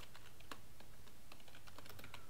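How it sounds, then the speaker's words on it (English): Someone types on a computer keyboard during a Football Fusion 2 game session, producing a quiet, irregular patter of key clicks, close and faint, with no talking. "They had to pass me when I was typing."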